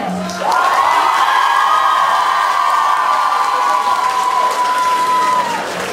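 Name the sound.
audience applause and cheering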